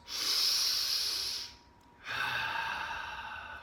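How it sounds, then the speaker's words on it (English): Two regular breaths from one person, in through the nose and out through the mouth, each a clear airy rush lasting over a second, close and alone with a short pause between. "we're going to take 3 regular just breaths"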